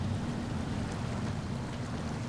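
A truck plunges into water in SnowRunner, a loud, dense rush of splashing and churning water with a low rumble underneath, sustained throughout and without speech.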